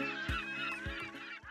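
Seagulls at the Essaouira fishing port in Morocco give loud, close, repeated honking squawks. Several calls overlap in quick succession over a steady background.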